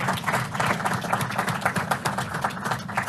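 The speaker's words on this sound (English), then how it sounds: "I think they're worth a round of applause" Audience at a diplomatic event in Washington clapping in a brief round of applause, a dense, fluttering patter of many hands heard from a moderate distance, with no talking.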